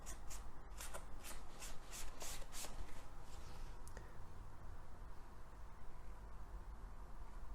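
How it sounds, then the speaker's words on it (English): A paper towel rubs dry a painted wall on a model railway layout, giving quick, faint papery scrubbing strokes in a rhythmic burst that then settles into a soft continuous rustle. "so I'm just going to kind of blend it in, dry it off with the paper towel"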